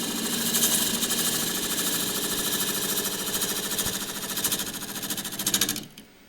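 A wood lathe spins a bowl blank while a gouge makes a pull cut, producing a dense rapid buzzing chatter of shavings that runs steadily and then stops abruptly near the end.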